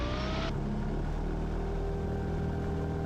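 A Cessna 172 engine at full throttle during a takeoff roll at Camden Aerodrome, a steady loud droning roar with strong low harmonics heard from inside the cabin, a brief higher whine fading out early.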